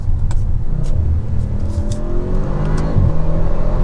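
ABT Audi RS7-R driven hard at high speed, its engine roaring loudly and steadily with rising whine and road rumble, heard from inside the car without talk.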